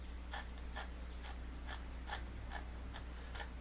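Regular, evenly spaced snips of scissors cutting through table tennis paddle rubber, about two per second, faint beneath a steady low hum.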